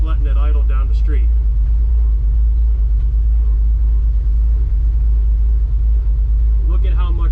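A Ford pickup with Twin-I-Beam front suspension rolls slowly down a street at about ten miles per hour with no throttle, a constant deep engine rumble throughout, with someone talking briefly at the start and end.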